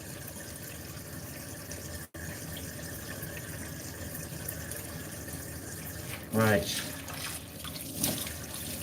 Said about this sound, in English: I'll rinse the tap with the water and turn it up on the elbow.